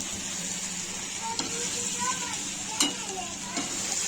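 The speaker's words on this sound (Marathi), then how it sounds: "मिक्स करून झाल्यानंतर आपण ही बोंबील फ्राय करून घेतलेले ते आता आपण त्यामध्ये टाकून घेणार आहोत। आता मिक्स करायचे आहेत।" Fried dried Bombay duck (bombil) being stirred into masala in a pan: soft continuous sizzle with a few sharp scraping clinks of the spoon, fairly quiet, with faint background voices.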